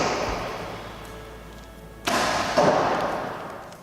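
Arrows from a bow hitting a target at 48 yards, two sharp thuds about half a second apart, each followed by a short decaying ring, heard at a distance over a steady outdoor hiss.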